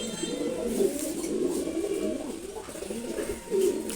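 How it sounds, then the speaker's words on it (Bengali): Several pigeons coo steadily in a loft, overlapping low rolling calls filling the whole stretch at moderate loudness, with a slightly louder burst of cooing near the end. "কোন কবুতরটা ভালো লাগে সেটা কমেন্টে জানাতে পারেন আপনারা"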